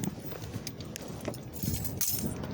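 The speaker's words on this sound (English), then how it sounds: "I'm dropping my keys." Keys drop and jangle with a few light metallic clinks against the background noise, apparently outdoors at night.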